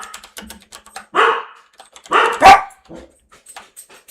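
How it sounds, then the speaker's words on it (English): Several dogs bark in a home setting at night, with two or three loud, clear bursts of barking spaced about a second apart over soft keyboard typing. "Just listen to my dogs bark all night."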